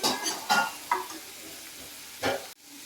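Peanut usli is stirred and fried in a pan: a few scraping spoon strokes sound close over a quiet sizzle, then cut off abruptly at the end.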